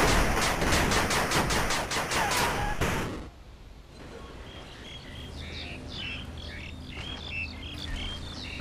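Rapid volley of gunfire from units in the 8 Bit Armies strategy game, dense repeated shots for about three seconds, then ending abruptly and leaving quieter chirpy game effects and a low hum.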